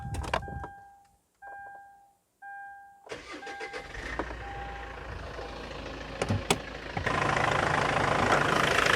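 A used Kia Sorento with a 2.0 VGT diesel engine: a few electronic chime tones sound first, then the engine cranks and fires, settling into a steady, close diesel idle that continues to the end.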